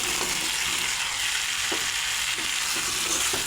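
Fried potatoes and drumsticks going into a pan of cooked-down spice paste for a vegetarian drumstick curry, giving a steady, dense sizzle with a few soft stirring knocks throughout.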